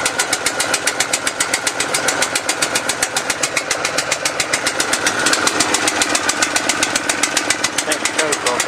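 A large pressure washer's engine, just cold-started, runs at wide open throttle with a loud, close, rapidly pulsing roar and a steady, even beat throughout.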